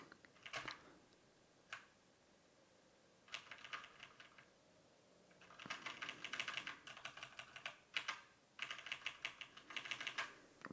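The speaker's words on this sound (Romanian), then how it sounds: "Tastatura este destul de silențioasă. Se vede că avem aici switch-uri brown, fiind printre cele mai silențioase." Typing on a Redragon Zed Pro wireless mechanical keyboard with brown switches gives close, muted clacking in scattered bursts and short single presses, quiet between runs.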